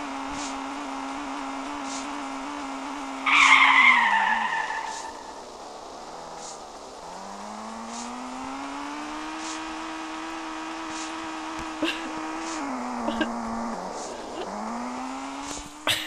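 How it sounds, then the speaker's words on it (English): Car engine in the Kitten Cat Simulator video game, a steady droning tone that rises and falls in pitch as it accelerates and skids, with a brief louder surge early and faint clicks later, no talking. "Don't drive the car into the house."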